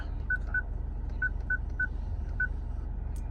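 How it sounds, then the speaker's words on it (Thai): Six short, identical electronic Google Maps navigation beeps in an uneven sequence sound through a car's CarPlay screen over a low, constant engine rumble. "ก็จะมีเสียง ของการเตือนขึ้นมาด้วยนะครับ เป็นระยะระยะตาม ระบบของ Google Map นะครับ"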